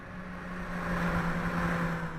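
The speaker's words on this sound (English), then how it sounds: "they've actually added sound to the AI cars going around the circuit as well" Computer-generated race cars lapping the Thruxton circuit in Microsoft Flight Simulator, a steady droning engine hum with a sustained low tone that swells slightly toward the middle, heard alone.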